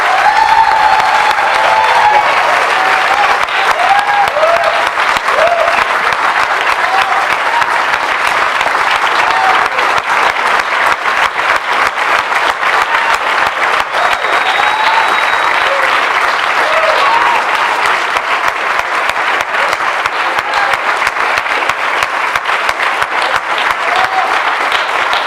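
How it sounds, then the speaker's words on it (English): Sustained applause from an audience at a theater event, a steady dense clapping that fills the whole stretch evenly, with a few voices faint beneath it. "Let's do a round of applause."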